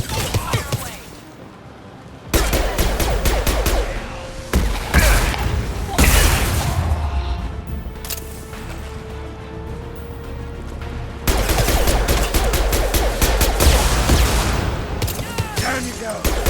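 Sustained gunfire rages in a Mass Effect 2 firefight, dense bursts and booming impacts filling most of the stretch, briefly quieting then surging again under a game soundtrack.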